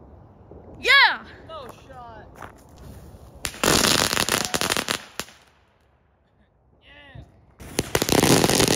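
Backyard fireworks and firecrackers go off in loud, crackling bursts: a whistling rocket, a few sharp pops, then two long, dense stretches of crackle. A voice and family chatter come in between.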